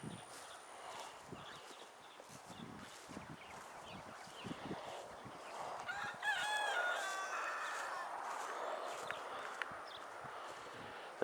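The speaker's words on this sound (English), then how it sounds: "The old rooster never shuts up." A rooster crows a few times in the distance over a quiet garden background with faint clucking and scattered small noises.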